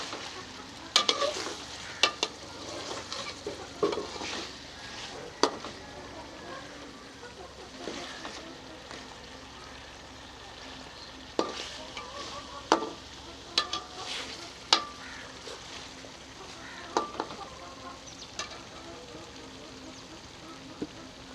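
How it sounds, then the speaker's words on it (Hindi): Fish pieces frying in a karahi with spice masala, stirred with a utensil: a steady soft sizzle runs underneath while sharp scraping and clinking spoon strokes come in irregular bursts, close and fairly loud, with no talking. "इसे मसाले में भून लेते हैं।"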